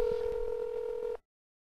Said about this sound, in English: Okay, it's about to auto-dial Alex in about 1 second